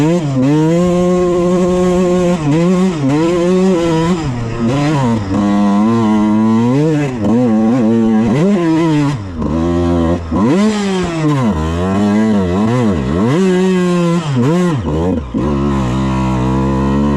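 Suzuki RM125 dirt bike on a ride, its two-stroke engine screaming loudly and close, climbing and dropping in pitch through repeated revs and gear changes for the full stretch.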